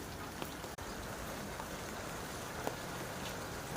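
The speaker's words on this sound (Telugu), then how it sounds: "ఫుల్ వర్షం, ఎంత వర్షం అంటే అసలు భయంకరంగా వర్షం." Heavy rain pours down in a constant dense hiss, with occasional louder drops striking a nearby surface.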